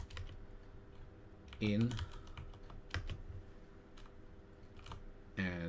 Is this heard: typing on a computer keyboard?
yes